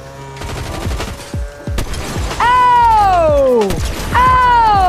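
Sniper rifle shots ring out in Fortnite gameplay. Several sharp, loud cracks arrive at irregular intervals, and a few carry a ringing, falling tail.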